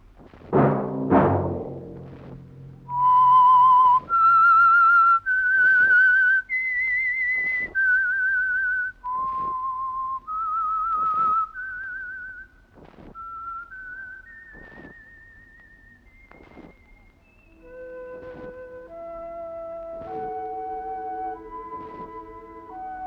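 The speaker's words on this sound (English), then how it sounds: "Let that whistle be your signal for the Signal Oil program, The Whistler" A lone human whistler carries a slow, melodic theme of sustained, gliding notes that rises and falls. It follows a brief burst of sound at the start, then trails off into softer, lower notes.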